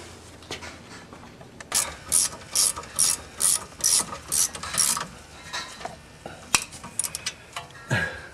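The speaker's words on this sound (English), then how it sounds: "I'm just going to take my wrench and tighten them up." A wrench ratchets tight the caliper bolts during a front brake job on a 2007 Mercedes C230, giving about eight loud, evenly spaced bursts of rapid clicking, then a few scattered metallic clanks.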